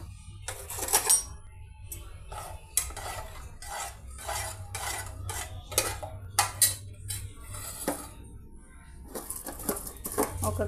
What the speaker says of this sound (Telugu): ఒక కప్పు రైస్ని మనం ఇప్పుడు ఇందులో యాడ్ చేసేసామండి